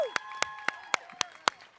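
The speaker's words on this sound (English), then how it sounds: "Clap it up. Clap it up." Audience clapping to welcome guests, heard as about six sharp, evenly spaced claps in a quiet room, fairly close and moderately loud, with no continuous crowd applause around them.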